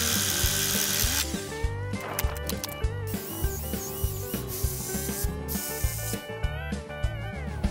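Rapid repeated ratchet clicks ring out close and clear as lag screws with washers are driven into wooden deck posts, with short pauses between strokes.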